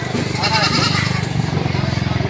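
Goats at a goat market in Padre Garcia, Batangas, bleating over a low steady crowd murmur and voices, several quavering calls close by in quick succession.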